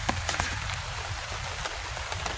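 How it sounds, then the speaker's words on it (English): Heavy rain pours down at an outdoor stealth campsite, a dense, continuous patter with scattered louder drops hitting nearby surfaces, and no voices. "Pouring down rain"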